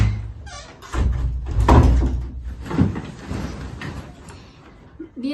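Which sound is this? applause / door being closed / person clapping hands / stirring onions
door being closed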